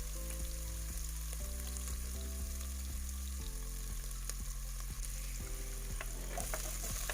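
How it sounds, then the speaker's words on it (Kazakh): Garlic and onion frying in hot oil in a pot, a steady soft sizzle with faint stirring clicks scattered throughout, continuous and fairly quiet with no talking. "қазанымызға құйып, аздап сарымсағымызды қуырып аламыз."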